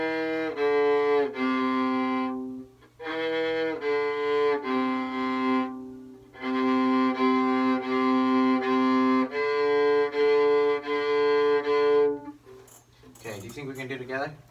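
A beginner's bowed string instrument in a lesson plays sustained harmonic notes in phrases separated by short pauses, loud and close, with brief voices near the end.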